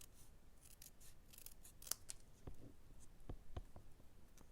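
Scissors snipping paper while a handmade birthday fold card is trimmed, a few quiet crisp cuts and small clicks over a faint background hiss, close and soft.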